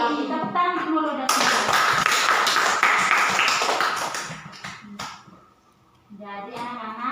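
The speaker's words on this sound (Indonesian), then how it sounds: "Tepuk tangan dulu dan" Classroom children clap their hands together in a lively burst lasting a few seconds, fairly close, with a teacher talking before and after.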